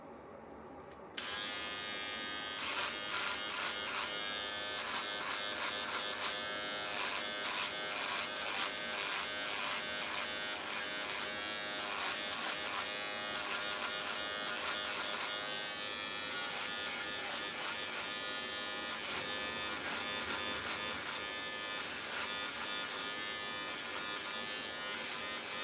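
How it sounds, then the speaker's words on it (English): An electric beard trimmer buzzes steadily and loudly from very close, running almost nonstop as it works through a thick beard, its drone shifting slightly as the blades bind and push through the hair. "It's pretty bad when your beard binds up the beard trimmer."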